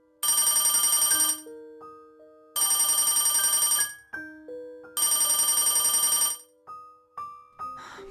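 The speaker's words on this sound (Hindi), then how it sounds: "तभी उसका फोन बजता है।" A loud electronic telephone ring repeats in three long bursts, with brief melodic tones sounding between them.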